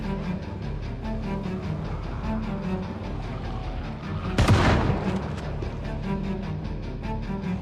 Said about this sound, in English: The gunshot reached further than any shout